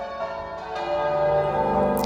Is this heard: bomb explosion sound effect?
no